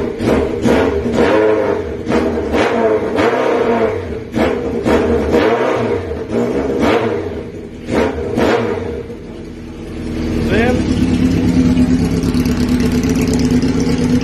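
A Honda CBX 750F motorcycle engine runs loudly nearby after starting without the choke, revving in repeated pulses before settling into a steady, rumbling idle.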